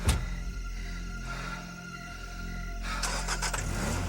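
A car engine starts with a sharp burst, then settles into a steady mid-pitched hum before revving up as the vehicle pulls away, heard up close with no talking.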